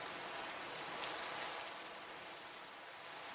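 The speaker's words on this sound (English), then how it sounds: "Does not help that it's raining at all." Rain falls in Minecraft as a soft, faint, steady hiss of drops with no breaks, and nothing else is heard.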